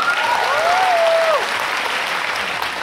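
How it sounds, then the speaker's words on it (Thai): A seated audience at a company talk breaks into sustained, dense applause that stays loud and even throughout, with a short rising and falling vocal cry heard over the clapping early on. "ขอเสียงปรบมือให้คุณหมอกับพี่นพด้วยครับ"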